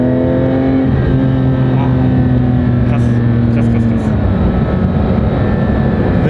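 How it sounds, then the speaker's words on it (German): A car accelerates, heard from inside the cabin: a loud engine note climbs steadily in pitch, then eases into a broad roar, while people talk over it. "wenn du jetzt ein bisschen aufs Gas gehst"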